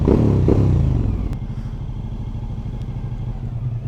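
A Suzuki V-Strom 1000 adventure motorcycle engine rumbles loudly and close, a strong rev swelling at the start and then easing into a steady, lower idle throb.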